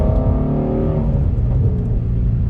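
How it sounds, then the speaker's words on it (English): A 2020 Ford Shelby GT350R Heritage Edition engine revving: a loud, close engine roar that eases off and settles into a steady rumble over a couple of seconds, with no one speaking. "just the sound of that engine"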